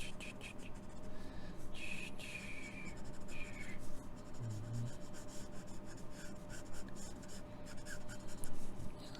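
Pencil shading a cartoon Snoopy drawing on paper, a steady soft scratchy rubbing that runs continuously and close up, with a few brighter strokes, a faint steady hum beneath.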